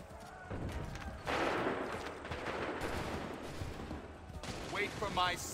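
Enemy musket fire in Assassin's Creed 3 crackles steadily through a dense battlefield din, moderately loud and continuous, with a few sharper pops near the end.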